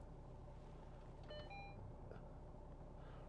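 A short cluster of electronic beeps sounds from the dashboard of a 2014 Volvo V70 D5 estate as a seat memory position is stored, fairly faint over a low, steady cabin rumble.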